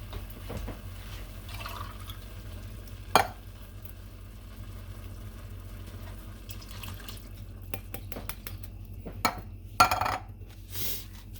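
Water is poured into two cans of condensed tomato soup and swirled to rinse them out, a soft, steady trickle and slosh with a few sharper clinks of the cans near the middle and end. No one speaks.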